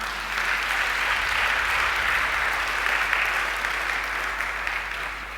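A church congregation at a Sunday service applauds in praise of the Lord. The clapping is loud, dense and sustained, and it fades slightly toward the end.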